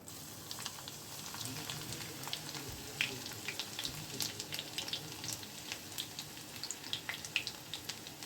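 Garlic cloves dropped into hot mustard oil with black cumin seeds in a pan, a continuous crackling sizzle with scattered sharp pops and spatters, close and steady, with no voices.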